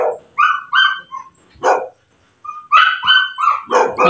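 Dogs bark at a city veterinary office in Dasmariñas, loud, close and repeated, with short sharp barks coming in irregular bursts and some higher yips between them.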